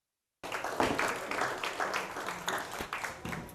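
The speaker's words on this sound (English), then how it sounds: "Let's give a round of applause for Miss Catherine Dockery, Vice Ventures." Audience applause following a talk, starting abruptly after a short silence and continuing as a moderate, fairly distant wash of clapping with scattered sharper claps, without voices standing out.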